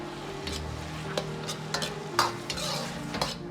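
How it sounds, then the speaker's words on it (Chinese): Shiitake mushrooms and pan-fried egg pieces are stir-fried in a wok over a steady sizzle, with repeated scraping strokes of a spatula against the metal at an irregular pace, close up and without talk. "接着倒入煎好的鸡蛋块，继续翻炒均匀"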